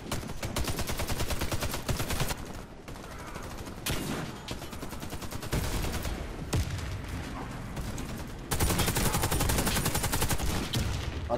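Rapid automatic gunfire from the shooter video game Warface rattles in repeated loud bursts with short gaps, close and harsh throughout.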